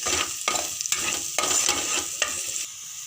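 Chopped green chillies stirred into a sizzling pav bhaji mixture, with rhythmic scraping strokes about every half second over a steady close fry.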